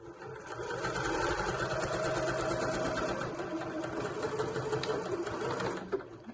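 Sewing machine back stitching to finish a seam on a pack-away shopping bag, a steady close mechanical whirr running continuously for several seconds with no talk.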